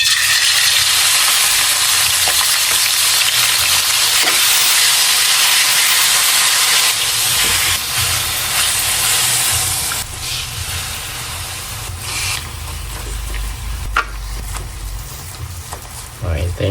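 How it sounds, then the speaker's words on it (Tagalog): Beef searing in about a quarter cup of hot oil in a pan gives a loud, steady frying hiss that runs throughout, with occasional clatter and sharper pops near the end. "Searing ko lang ito para mag-brown."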